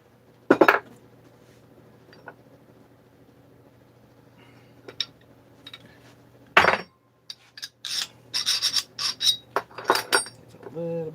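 Deburring a metal part on a workbench, with sparse metallic clinks and scrapes at first, then a run of repeated sharp scraping strokes near the end, close and fairly loud.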